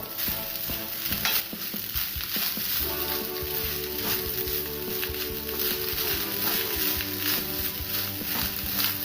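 A pan of egg fried rice sizzles constantly as it is stirred and scraped, the spatula strokes repeating unevenly over a steady frying hiss, near and fairly loud.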